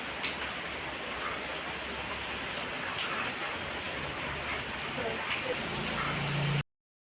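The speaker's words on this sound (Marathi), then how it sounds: "मस्त असं जोरात पाऊस सुरू झाला बघा" Heavy rain pouring steadily in a dense, even hiss with scattered drop impacts, loud and continuous, a faint voice barely present toward the end.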